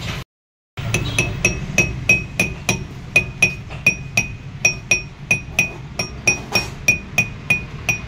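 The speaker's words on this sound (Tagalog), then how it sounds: "Bali tamang pukpok lang mga kabox para hindi ito mapitpit." Light hammer taps seating a rear wheel bearing cover, sealed with silicone, on a Mitsubishi Mirage, about two dozen sharp metallic clinks in an even steady rhythm, close and ringing, after a brief silent gap.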